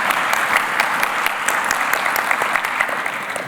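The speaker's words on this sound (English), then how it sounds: "you can clap for that." A church congregation breaks into loud, sustained applause, a thick wash of many hands clapping at once, with no speech over it.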